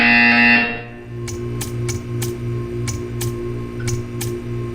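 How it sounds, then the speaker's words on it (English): In Portal 2, a tone fades out, then a series of sharp, evenly spaced electronic ticks or buzzes sounds over a low mechanical hum, about nine pulses in a steady rhythm. "You will hear a buzzer."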